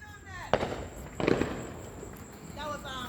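Fireworks go off in two sharp, separate bangs about a second apart, with people talking and calling out before and after.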